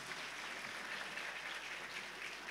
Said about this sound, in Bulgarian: 37 аплодисмента за община Тунджа!